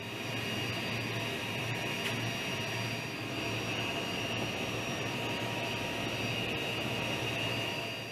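Aircraft engine of a military transport plane in Antarctica, a steady loud whining roar with a high-pitched turbine tone, constant and close throughout with no talk.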